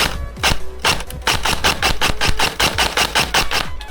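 A G&G RK74 airsoft rifle fed from a modified AK magazine fires a long, rapid, evenly spaced string of sharp mechanical cracks, close and loud, with no talking over it.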